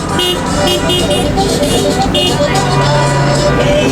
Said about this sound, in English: there's like a lot of traffic